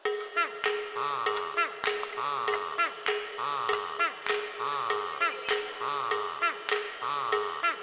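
The awful version of a song from the video game PaRappa the Rapper: a looping, repetitive electronic music pattern with regular ticking beats and descending bleeps, steady and mid-loud, no voices.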